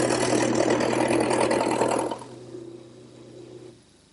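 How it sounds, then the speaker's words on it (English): Wood lathe spinning a workpiece while a gouge roughs it into a cylinder, a loud continuous whirring hum with cutting noise that cuts out after about two seconds, leaving a quieter fading drone. "I'll start out by using a gouge to just rough out a cylinder"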